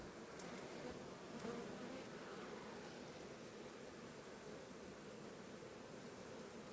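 Honeybees buzz steadily and close during an autumn hive inspection, a dense continuous hum filling the whole stretch with no voices over it.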